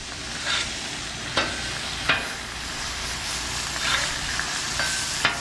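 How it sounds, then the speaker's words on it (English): Steaks sear in a hot pan with a loud, continuous close-up sizzle, broken by a few sharp pops and spatters. "Steaks have been searing."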